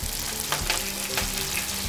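Garlic and curry leaves frying in hot oil on a tawa for surmai fry, giving a steady close sizzle with a few soft crackles and stirring touches and no speech.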